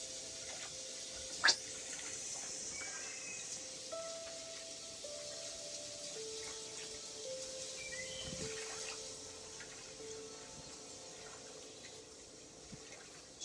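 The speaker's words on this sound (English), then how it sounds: "there's water noise in the background, music and birds" Running water trickles softly in the background while birds chirp faintly now and then, with a quiet melodic tone drifting underneath; no one speaks.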